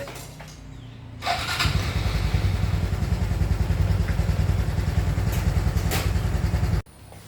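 A Honda Wave110i motorcycle with a newly replaced fuel injector cranks and catches, settling into a loud, steady close-up idle putter for several seconds before cutting off abruptly.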